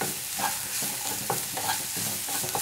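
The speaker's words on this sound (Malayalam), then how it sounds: "നന്നായിട്ടൊന്ന് ഇളക്കി കൊടുക്കാം." Salted onions sizzling in a pan for a Kerala bitter gourd stir fry, a steady frying hiss with regular soft scraping strokes from a spoon stirring through them, close by with no talking.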